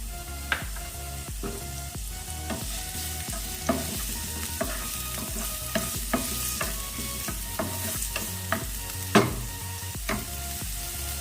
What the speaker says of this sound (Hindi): अब हमारा तेल गरम हो चुका है। सबसे पहले प्याज डालते हैं।